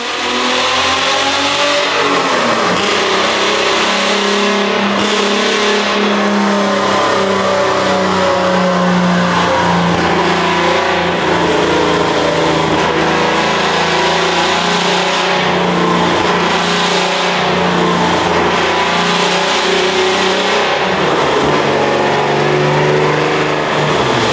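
A car engine with a tubular exhaust manifold roars at full load on a dyno in a large hall, loud and sustained, with a deep steady drone and rising and falling revs.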